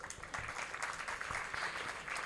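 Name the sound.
audience applauding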